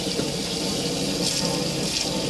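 Hot water runs steadily under pressure from a motorhome tap in an Auto Trail Imala 730, a loud, continuous close-up hiss and splash with no pauses.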